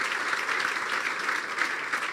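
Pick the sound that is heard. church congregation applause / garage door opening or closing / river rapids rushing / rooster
church congregation applause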